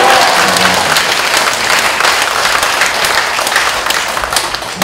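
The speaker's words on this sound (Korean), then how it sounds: "우리 영상에 나오실 때 할렐루야로 박수로 환영합니다." A church congregation at a revival service in a prayer-house sanctuary applauds steadily, a dense, loud wash of clapping hands that holds throughout and eases slightly near the end.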